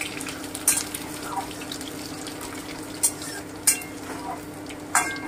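Chopped garlic fries in a pan over lowered heat, a soft steady sizzle under several crisp scrapes and knocks of a spatula against the metal.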